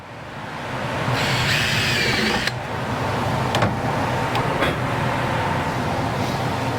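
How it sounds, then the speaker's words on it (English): A power drill whirs steadily for a couple of seconds drilling into wood for a garden planter, then stops, followed by a few brief clicks and handling noises against a constant background hum. "and we drill a hole."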